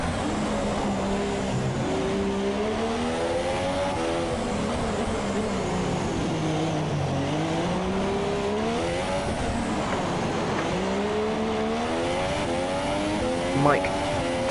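A Formula 2 race car in the Monaco Grand Prix streets, engine note rising and falling steadily through gear changes into a chicane, a continuous whining drone under a commentator's voice.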